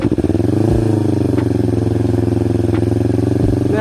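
Yamaha R25 fitted with a Kazen Proexhaust DENT 33SS exhaust, held near 3000 RPM: a loud, close, steady engine drone with a fast pulsing exhaust beat and a brief rise in revs near the start.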